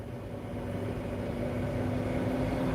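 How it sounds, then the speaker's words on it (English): An 18-wheel truck at a gas station runs its engine in a steady low rumble with a faint hum, holding level and continuous throughout without distinct revs. "Right now, I hear an 18-wheel truck revving its engine."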